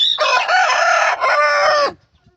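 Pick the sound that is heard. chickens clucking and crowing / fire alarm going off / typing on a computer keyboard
chickens clucking and crowing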